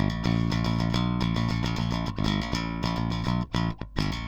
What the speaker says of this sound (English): The DI sound just sounds like this.